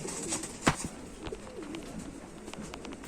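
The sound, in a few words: pigeons cooing (Sialkoti pigeons)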